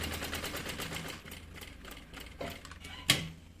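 A sewing machine stitches a chest-style bag, running in a fast continuous rattle for about a second before slowing into intermittent stitching, with a sharp clack near the end.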